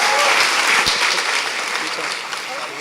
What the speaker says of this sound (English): Round of applause for Diego.